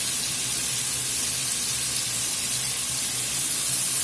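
Vegetables sautéing in a hot pan, seasoned with a little salt and pepper, giving a steady, dense sizzle and hiss that stays even and close without pause.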